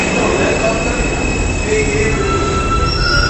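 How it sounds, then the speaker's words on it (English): A New York subway F train pulls in with loud, sustained high-pitched wheel squeals over rumbling rail noise, continuous and close through the whole stretch. "here's the F train"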